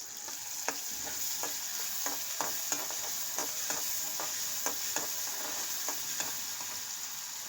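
Ginger and garlic frying with small sea fish, a steady sizzle under rhythmic spatula scrapes and taps against the pan every half second or so, close, with no voices.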